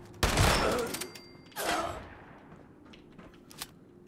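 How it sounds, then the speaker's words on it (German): Shotgun blasts fired indoors in the video game Fallout 76: two loud, booming shots about a second apart, each with a ringing tail inside a building, followed by fainter shots and clatter. "mit der Shotgun hier in Gebäuden muss ich noch ein bisschen üben"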